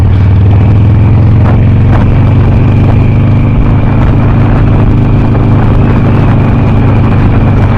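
A 2006 Harley-Davidson Sportster motorcycle engine while riding on a smooth road, a loud steady low rumble with constant wind roar, unchanging for the whole stretch.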